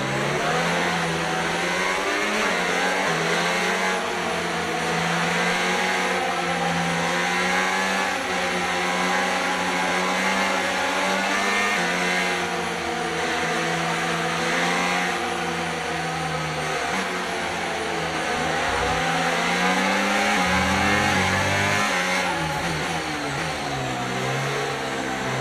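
An F1 race car engine from the F1 25 video game drones continuously for the whole stretch, its pitch sweeping up and down as it revs while the tyres are warmed behind the safety car before a race start.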